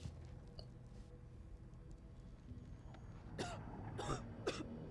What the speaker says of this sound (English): Oh, this is not the time for a coughing fit.